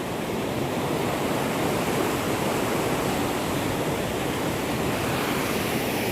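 Floodwater after heavy rain rushes past in a continuous, loud, even roar of churning water, close by and with no voices.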